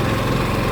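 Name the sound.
RV generator exhaust running, Winnebago Solis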